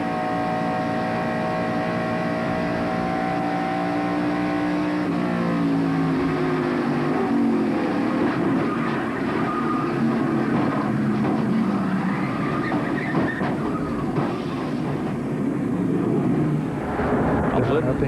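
Stock car engines at the 1993 Hooters 500 NASCAR race roar from an in-car camera, a loud continuous drone with shifting pitch as the car accelerates, the engine rising and falling throughout.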